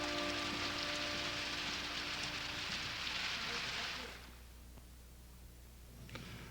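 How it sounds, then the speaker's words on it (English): Steady rain falls in a dense broadband hiss for about four seconds, then drops away abruptly to a quieter background. "Brother, you wanted to walk in the rain."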